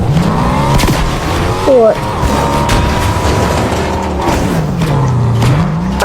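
A car in a battle royale shooter video game revs and accelerates, its engine pitch sweeping up and down with a brief heavy thump, while players chat over the engine noise.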